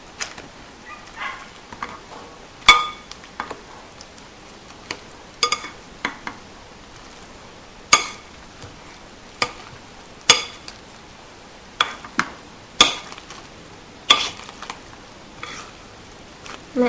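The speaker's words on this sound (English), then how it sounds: "Add about maybe a 1/4 cup of milk. Kind of like that. And start mashing." Potatoes being mashed with milk in a pot give irregular soft squelches and sharp clacks of the masher against the pan, spaced a second or two apart over quiet background.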